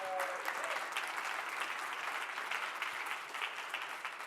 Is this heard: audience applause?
yes